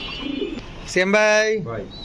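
A Lahori pigeon at a pigeon sale gives a short, low coo, followed by a louder, sustained tonal call that may be a voice.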